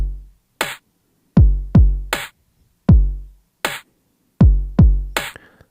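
Programmed kick and snare drum pattern built from MIDI clips, with deep booming kicks and sharp bright snare hits in a loose, syncopated groove, loud and up close with silence between hits.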